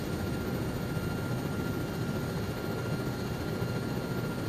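Helicopter in flight in the military video game ArmA 3, a steady broadband engine and rotor drone heard from inside, constant and moderately loud with no other sounds.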